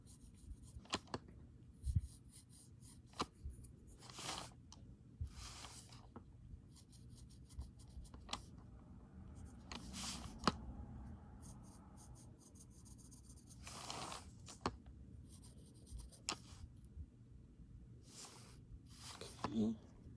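Graphite being shaded and blended on paper with a tortillon while drawing a Zentangle, soft intermittent rubbing strokes close up, with talking over parts of it.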